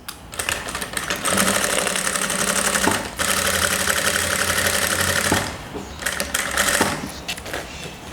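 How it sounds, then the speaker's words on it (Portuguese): A sewing machine stitching fabric, with a backstitch at the start and end of the seam, runs in a loud, fast mechanical whir with brief stops and restarts, close and with no talking. "Agora é só passar a costura. Começa com retrocesso, finaliza com retrocesso."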